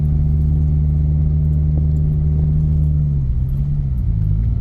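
A vehicle with a Toyota 2SZ-FE engine climbing a hill in second gear, a loud, steady low engine drone that drops slightly in pitch and loosens near the end.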